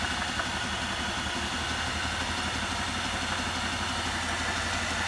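An induction motor running as a generator at about 1440 rpm, a steady low mechanical hum with a rapid pulsing throb under a constant whine, close and unchanging.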